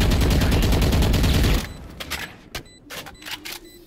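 Rapid, loud burst of gunfire from a shooter video game fills the first second and a half, then cuts off, leaving a few sharp isolated shots and clicks in near silence.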